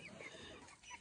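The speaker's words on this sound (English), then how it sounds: "I am feeding the baby duck and the baby guineas." Baby guinea fowl and a duckling chirp and call together during a morning feeding on a farm homestead, a busy mix of small peeping voices heard up close.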